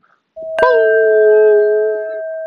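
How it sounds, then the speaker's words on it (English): Morning wake-up gong at a silent retreat, a single loud strike that rings out with a long sustained metallic tone slowly fading, heard alone. "That gong waking you up."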